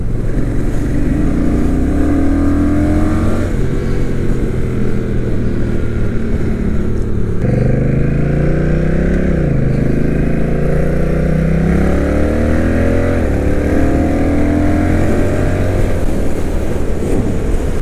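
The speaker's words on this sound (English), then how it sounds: "This exhaust with the silencer in is definitely quieter than mine" A Honda Rebel 1100 motorcycle engine with a throaty aftermarket exhaust, silencer fitted, idles and revs repeatedly, pitch rising and falling, loud and close throughout.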